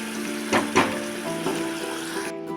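Fish curry with a sprinkle of garam masala bubbles and sizzles softly in a pan, a steady close simmer broken by a few louder pops and stirring knocks.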